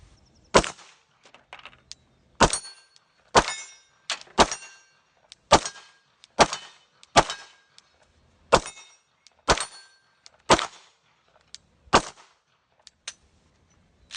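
Glock pistol fitted with a drop-in trigger and non-stock spring fires about a dozen sharp, loud gunshots one at a time at a steady, unhurried pace, with brief echoing decay after each shot.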